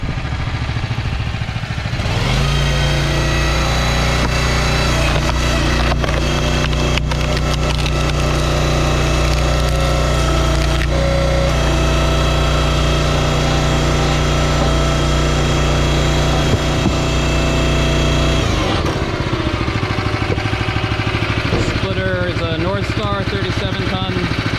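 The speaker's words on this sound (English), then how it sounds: "over here running the splitter" The GX gas engine of a 7-ton log splitter with automatic throttle runs loud and close throughout, revving up and idling down, with wood creaking and splitting under it and voices now and then.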